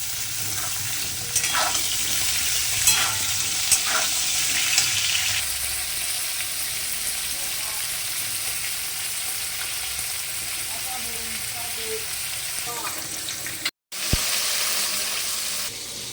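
Pointed gourd frying with potatoes in a pan, a loud sizzling hiss as the pieces go in, easing to a steadier fry with occasional stirring, a brief cut of silence near the end before the sizzle resumes.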